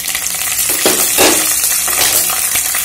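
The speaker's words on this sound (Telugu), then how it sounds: "పోపు వేగింది కదండి దీంట్లో పచ్చిమిర్చి చిలికలు" Tempering frying in a pan with green chillies added, a loud close sizzle with bursts of spattering and stirring clinks over a few seconds.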